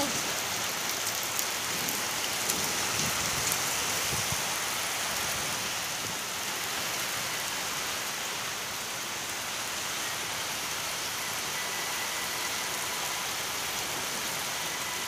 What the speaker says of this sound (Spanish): esa es la lluvia más fuerte